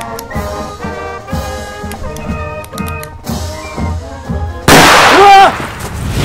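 A bomb detonates in a short film: after a stretch of tonal, music-like sound, a sudden loud, broadband blast erupts near the end and its rumbling roar sustains to the close.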